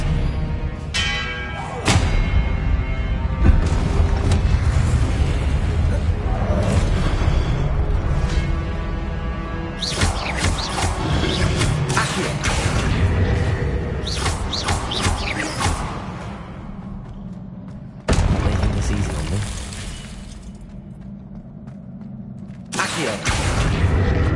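Incendio and Expelliarmus spells fire in the Hogwarts Legacy video game, producing loud bursts of booming, ringing magical impacts with thuds and shimmering tails, separated by short lulls.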